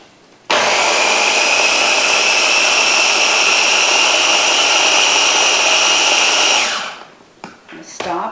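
A kitchen blender whirs loud and steady for about six seconds, blending drained soybeans with a little reserved juice, then spins down to a stop followed by a few faint clatters.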